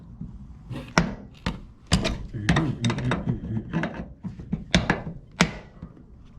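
Metal wrenches clank and knock against a mini split refrigerant line fitting, a series of sharp irregular taps and scrapes at close range, with a voice talking faintly in between.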